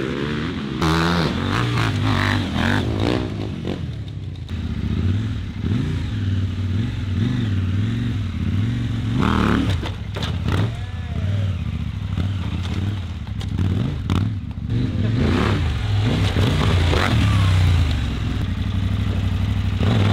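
A KTM motorcycle ridden off-road by a 2021 Red Bull Romaniacs finisher, its mid-pitched engine revving and surging continuously with throttle changes and clattering over about twenty seconds, loud and close, with no talk.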